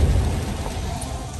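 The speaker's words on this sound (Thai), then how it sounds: "แต่วันนี้ฝนตก" Steady rain falls outdoors on a day of mushroom foraging, a dense continuous hiss with a low rumbling undertone that holds evenly and loud throughout the short stretch, with no voices.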